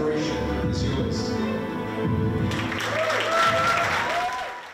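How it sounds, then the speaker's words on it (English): A crowd applauds steadily, swelling and continuing throughout, with some music or tonal sounds rising behind the clapping. "here are what's about to be a huge round of applause"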